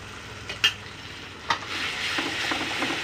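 Coriander, cumin and red chilli pastes sizzle in hot oil for a fish curry, stirred with a spoon that scrapes the pan a couple of times, close, the frying rising steadily with no talk.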